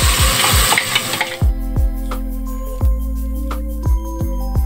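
Blended tomatoes hit frying onions in a pan for a moong dal, with a loud burst of sizzling that settles into a steady hiss and low hum, broken by regular stirring knocks.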